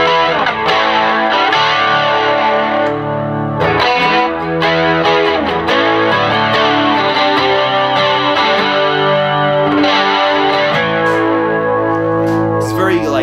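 Electric guitar played through a Roland JC-40 amplifier with distortion and chorus-like effects, sustained loud chords and picked notes ringing continuously with a few brief pauses.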